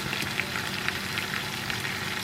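Chicken pieces sizzle steadily in oil in an uncovered pan, a close, even frying hiss with small pops throughout.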